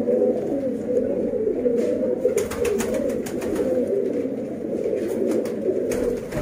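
Sialkoti neel dumay pigeons coo in a steady, close, low murmur, with occasional flapping and shuffling sounds over it.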